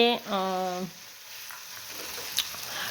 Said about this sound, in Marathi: टोमॅटो आहे अगदी छानपैकी बघा चिरून मी आता ह्या तेलामध्ये असे छान परतून घेतलं